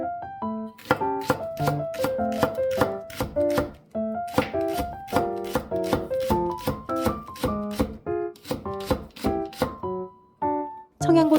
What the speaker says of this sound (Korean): 대파 1뿌리를 송송 썰어주세요.